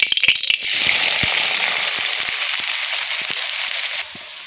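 Chopped onions hit hot oil for a mutton curry, a loud broadband sizzle erupting with sharp crackles and pops at the start, then settling into a steady hiss with scattered spits before easing slightly near the end.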